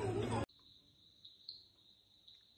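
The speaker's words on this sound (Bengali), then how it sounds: "এখানে পর্যন্ত ঝিঝি পোকা আর বিভিন্ন রকম পোকামাকড়ের আওয়াজ" After a brief burst of noise, crickets and other insects trill steadily and faintly at night near a hillside homestay, a continuous high chirring with a few slightly louder pulses.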